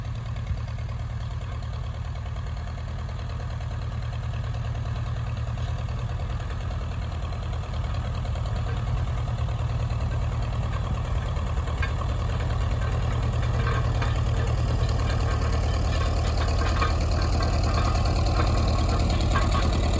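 An old Ferguson tractor engine pulls heavy rolls across soft meadow ground. It drones steadily with a low, thumping, knocking beat, close and loud for twenty seconds with no voices.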